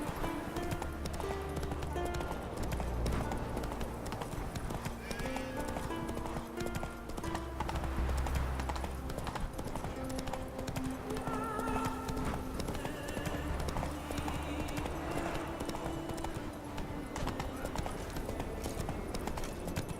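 Geralt's horse Roach gallops in The Witcher 3 with loud, rhythmic clip-clop hoofbeats and an occasional whinny, set against game music and ambient sound.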